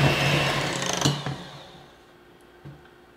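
A stand mixer whirs as it blends eggs and vanilla extract into creamed cookie batter for chocolate crinkles, starting loud and then winding down to quiet, with a small clunk near the end.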